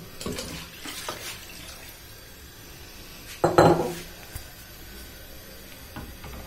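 A jug of water is poured into a pot of Delhi-style nihari, giving a brief splashing gush in the middle of a quiet kitchen, with faint clinks of utensils before and after.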